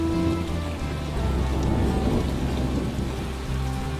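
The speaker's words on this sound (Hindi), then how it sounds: "वह तड़कती बिजली और तेज बारिश में अपनी गुफा को छोड़कर गांव की ओर निकल पड़ते हैं" Heavy rain pours steadily, with rolling thunder rumbling low underneath, a dense continuous storm sound effect without any voices, used for a cartoon scene of a lightning-lit downpour.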